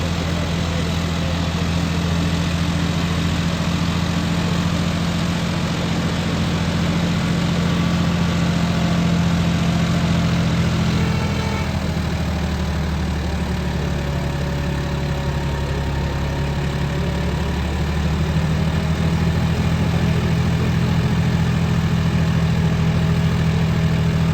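A John Deere tractor engine idles steadily close by, a low rumbling drone that dips briefly in pitch midway before settling back.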